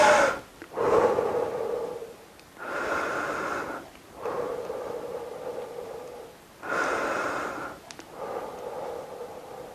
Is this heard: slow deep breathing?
yes